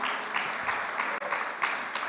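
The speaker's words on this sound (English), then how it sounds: "could we please have a round of applause for our sponsors" Applause from a conference audience, a broad steady wash of many hands clapping throughout, with a slight swell and dip but no letup.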